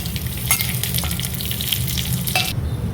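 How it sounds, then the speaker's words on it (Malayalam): Mustard seeds splutter in hot oil for the tempering of a Kerala coconut chutney. Close, sharp pops crackle irregularly over a continuous frying hiss, with no talking. "കടുക് പൊട്ടി വരുന്നുണ്ട്."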